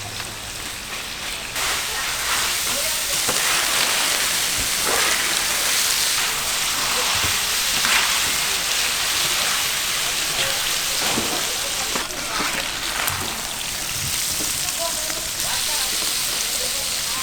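Pork offal, including kidney, sizzles and crackles steadily in hot rendered pork fat, a loud, continuous frying hiss with no pauses.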